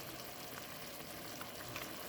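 Rice noodles stir-frying with chili garlic and leftover pho soup and napa cabbage give off a steady, fairly quiet sizzle with no break, and a slightly louder scrape comes near the end.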